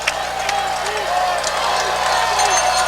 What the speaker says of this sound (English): Crowd back into it again.